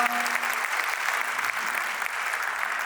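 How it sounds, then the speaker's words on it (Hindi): Steady, dense audience clapping after a stage play about Vidyasagar Ji Maharaj, a continuous crowd applause that holds an even loudness for about three seconds without talk on top. "तो मैं एक बार बहुत जोरदार तालियां आप लोगों को चाहूंगी"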